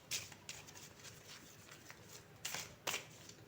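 Tarot cards are shuffled softly by hand, a few quiet riffling and patting bursts, with the clearest flutters near the start and end, set close against a faint, quiet room.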